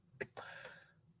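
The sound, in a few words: coughing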